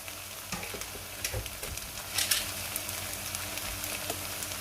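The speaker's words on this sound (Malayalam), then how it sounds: "ഇനിയിപ്പം നമ്മുടെ ഫ്രൈഡ് റൈസിനെ ഇതിലേക്ക് ഇട്ട് കൊടുക്കാം." Sizzling in a hot pan with scraping and tossing sounds of cauliflower fried rice being stir-fried, uneven bursts over a constant crackle.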